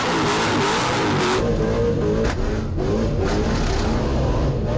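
A car engine is revved hard as the gas is pumped, a loud, steady roar that swells and dips in repeated surges.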